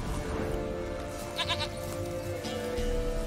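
A goat in The Witcher 3 gives a brief, stuttering bleat of a few quick pulses over a constant bed of outdoor game ambience.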